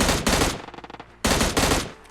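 M16 fire in the mobile battle royale game PUBG Lite comes as two loud, close bursts of rapid automatic shots, with a short pause between them.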